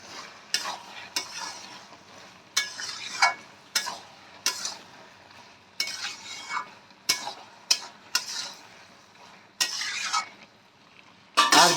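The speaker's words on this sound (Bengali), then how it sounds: "চিনিটা আমরা ভালো করে মিক্স করে দেবো।" A spoon scrapes through a sizzling pan of fish-roe curry as sugar is stirred in, about a dozen short irregular stirring strokes over a soft, steady frying hiss.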